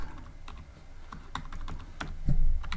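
Clicky keystrokes on a computer keyboard while entering Python code, a quick irregular run of close, crisp taps with no talking.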